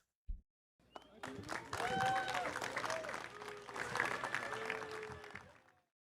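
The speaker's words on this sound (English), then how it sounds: "So you heard some boos, you heard some clapping" A crowd reacts with a mix of boos and scattered clapping, a sustained noisy swell lasting several seconds with voices mixed in.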